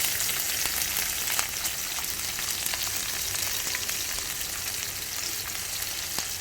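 Onion frying in hot oil over tempered five-spice, crackling in a dense, steady sizzle with small pops, close and continuous, with no speech.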